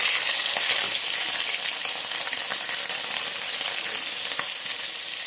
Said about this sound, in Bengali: এখন আমি এটাতে কাঁচা লঙ্কা দিয়ে দিচ্ছি